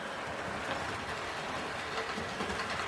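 Hornby model locomotive running around second-radius track, giving a steady, continuous rolling rumble and faint rail clatter at moderate level, with no voices.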